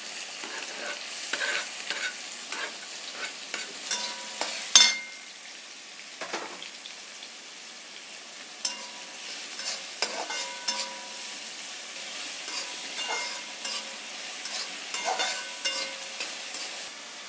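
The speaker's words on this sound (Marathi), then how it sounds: "आता मित्रांनो मी तेलामध्ये तळून घेणार आहे" Finely chopped onion fries in hot oil with a bright, crackling sizzle, punctuated by scraping stir strokes and a louder clatter early on, then a steady crackle continuing to the end.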